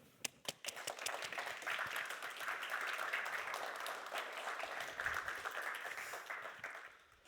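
Warm applause from a conference audience welcoming a European Commission deputy director general to the stage, a dense steady wash of many hands that swells, holds for several seconds and tapers off.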